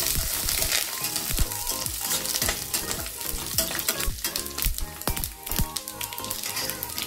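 Dried red chillies and fresh curry leaves temper in hot oil for a lentil dish, giving a loud, dense, unbroken sizzle with sharp crackles and pops throughout and no voices.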